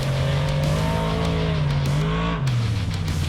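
A Finke Desert Race vehicle roars past close by with a strong, steady engine drone, its pitch dropping as it moves away.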